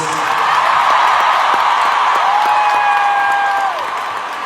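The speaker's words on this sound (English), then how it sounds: "Please join me in a round of applause for 70 years of service." A concert crowd in New York applauds in tribute to Queen Elizabeth, a dense sustained wash of clapping and a few cheers that stays loud, then eases slightly at the end.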